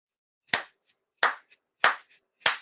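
Four sincere ceremonial hand claps at a Shinto prayer ceremony for Tenchi Kane no Kami, crisp and evenly spaced in a quiet room, each clap ringing briefly before the next.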